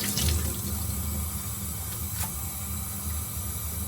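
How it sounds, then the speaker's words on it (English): Water runs steadily from a tap over a paintbrush being rinsed, a continuous close splashing hiss with slight fluctuations and no talking. "So I'm going to run this under the water a little bit and call this good."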